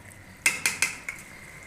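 A spoon stirs chicken, okra and onion in a small cooking pot, giving four quick, close metal clanks against the pot over a soft background hiss, then quiet.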